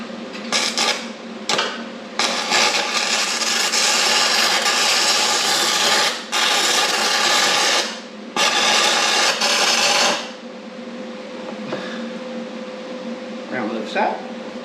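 A stick welder crackles and hisses during a field repair on a frame, with long sustained bursts of sizzling arc noise separated by brief breaks, then fading to quieter shop sounds while someone talks.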